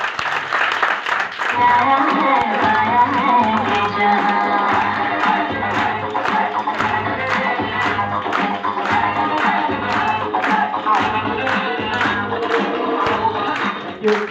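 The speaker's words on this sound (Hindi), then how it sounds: "जोरदार तालियां बजती होनी चाहिए म्यूजिक के साथ" A crowd at an achievement celebration claps loudly and cheers over rhythmic music with a steady beat, the applause sustained throughout with voices shouting in the mix.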